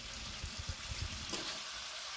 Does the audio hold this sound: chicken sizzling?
yes